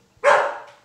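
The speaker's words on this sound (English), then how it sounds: "there's the dog that's barking and growling" A dog at home gives a single sharp bark close by, loud and abrupt, tapering off in under a second.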